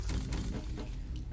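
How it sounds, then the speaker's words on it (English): Loot dropping and being picked up in a Warhammer 40K video game, a brief burst of faint clinking and jangling, like scattered metal and glass bits, over a dense rumbling game background. "That's the sound of loot dropping"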